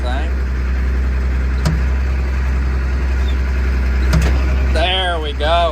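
A vehicle engine idling steadily while stuck in gear, a constant low rumble throughout, with a voice talking near the end.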